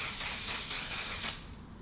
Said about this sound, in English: now I'm going to set that with my One Size Beauty setting spray